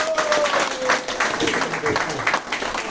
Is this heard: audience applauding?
yes